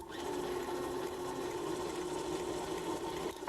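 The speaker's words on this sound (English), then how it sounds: "Give this a good whisk." An electric mixer whisks grated lemon rind with granulated sugar in a kitchen, giving a continuous, even motor whir at low volume that cuts out just before the end.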